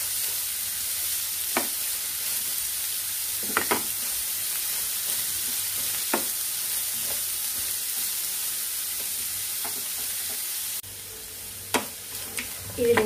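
Ridge gourd peels and coriander fry in oil, a continuous bright sizzle with scattered crackles and occasional spoon scrapes, close and steady throughout.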